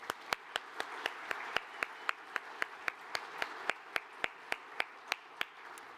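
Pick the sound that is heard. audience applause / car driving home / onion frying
audience applause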